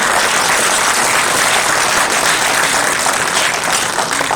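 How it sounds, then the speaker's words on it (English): A large convocation audience gives a big round of applause for the chief guest, loud, dense and continuous clapping that fills the room at full strength throughout the few seconds. "So a big round of applause for him."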